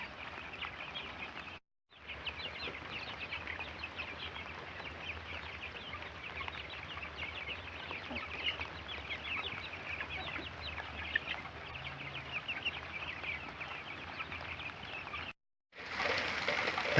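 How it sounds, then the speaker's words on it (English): Farm chickens cluck and peck steadily on a rainy day in South Georgia, a soft continuous scatter of clucks and busy movement with a faint low hum beneath, briefly cutting out near the start and end. "Rain, snow, nothing stops these birds from eating."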